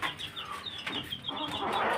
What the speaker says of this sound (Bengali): আর একটা ইউনিক একটা মুরগি এনেছি